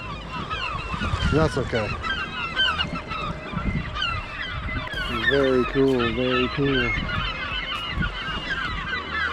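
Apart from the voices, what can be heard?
disturbed birds calling on a Georgian Bay island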